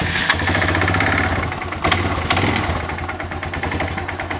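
Kohler small engine running after a cold start, with corrosion on the throttle body, a loud close steady chugging idle with knocking pulses and a couple of sharper bangs, no talk.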